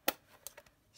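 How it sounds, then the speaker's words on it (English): Scissors fussy-cutting a stamped paper image for a handmade Christmas card: a few quick, crisp snips spaced irregularly within a second, close and fairly quiet. "I'm going to stamp it and fussy cut it out."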